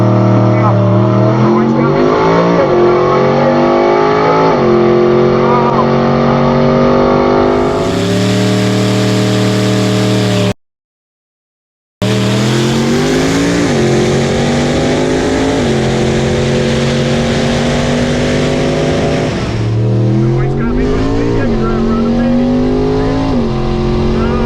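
An 800+ horsepower Dodge Charger Redeye at a drag race, a loud engine roar climbing through gear shifts at full throttle, cut by a brief gap of silence before the revving resumes.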